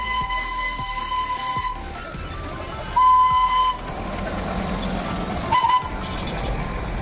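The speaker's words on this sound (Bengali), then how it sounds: "আমরা ঢোকার সাথে সাথেই টয় ট্রেনটাও ঢুকলো।" The Darjeeling toy train sounds its horn as it arrives at Batasia Loop: two short, sharp toots, the first longer, over a steady engine drone and outdoor background noise.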